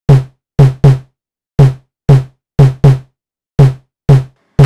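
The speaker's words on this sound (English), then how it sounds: "in order to get it to sound like that crunchy bass drum that they have." A distorted, grungy bass drum sample programmed in GarageBand hits nine times in an uneven pattern, each crunchy, loud kick ending in a quick decay and standing alone with no other sound.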